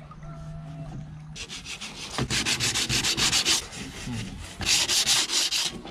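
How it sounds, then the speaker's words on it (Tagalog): Sandpaper rubbing over a wooden surface to prepare it for paint, at a rural outdoor work site: quick, rhythmic back-and-forth scrubbing strokes, close and fairly quiet, starting after a short lull. "Lihain muna natin guys para ano talaban ng pintura"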